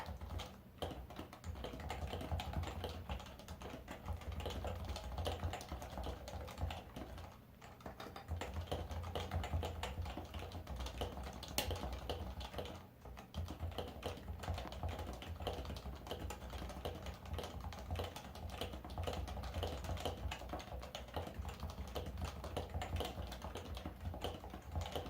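Steady, continuous typing on a PFU Happy Hacking Keyboard Professional 2 with Topre keys, a dense run of close, muted thocky keystrokes lasting the whole stretch with only brief pauses.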